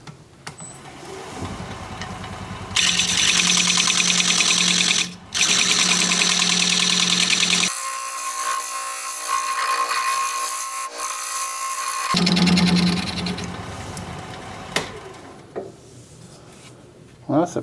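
A wood lathe turning a root ball while a dovetail tool cuts its edge, a loud continuous motor hum with rough cutting noise that shifts in tone midway and then eases off near the end.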